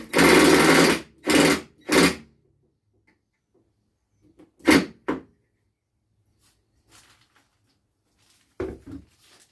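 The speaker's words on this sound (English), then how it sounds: "go ahead and put your second screw in each of these" Power driver running screws into the feet of a Longmill Mk 2.5 CNC, three loud close whirring bursts, then two shorter ones and a final burst, with quiet handling sounds between.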